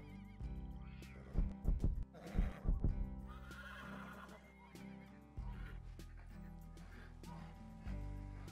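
A horse in Untamed: Kira's Path lets out several loud, shaky whinnies in quick succession, followed by softer snorts and hoof sounds against a quiet ambient game backdrop.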